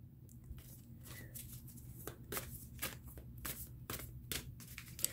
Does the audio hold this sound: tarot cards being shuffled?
yes